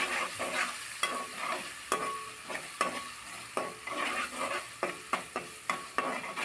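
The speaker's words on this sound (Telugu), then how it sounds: "చక్కగా కలిపేసేయాలి ఉండలు ఉండలు లేకుండా మంచిగా ఫ్రై అయిపోతుంది" A thick masala mixture for a village-style chicken curry is fried and stirred in a pan, with a steady sizzle punctuated by regular, close spatula knocks and scrapes against the metal.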